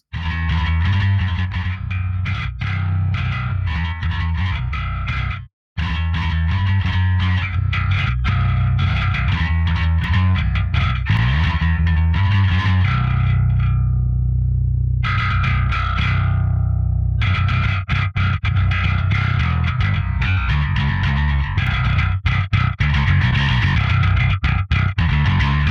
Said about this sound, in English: it's a good aggressive style compressor